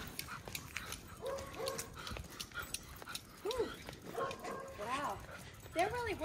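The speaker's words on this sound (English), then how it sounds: "I usually walk a good mile with my dog." A beagle on a walk gives short yips, barks and high whimpers, close by and repeated, with someone talking throughout and outdoor rustle behind.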